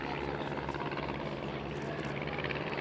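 An Avro 504 biplane runs in at an RAF Cosford air show, its propeller engine drone steady and moderately distant, a continuous buzzing hum with no talk over it.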